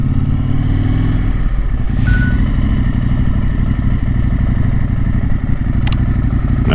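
A motorcycle engine runs steadily close by, a loud continuous rumble with a brief clatter partway through, no voices over it.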